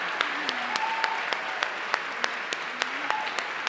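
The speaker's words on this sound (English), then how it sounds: "a big round of applause for Emma." Applause from an audience at a media awards ceremony, a steady dense patter of clapping that fills the clip at moderate level, with faint tonal sounds in the background.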